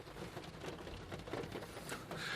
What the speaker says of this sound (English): they don't know it's raining